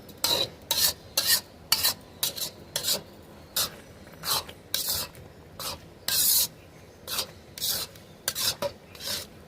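Grated carrot halwa cooking with sugar and milk, stirred in a pan with repeated rasping scrapes in an uneven rhythm over a faint simmer, close and fairly quiet.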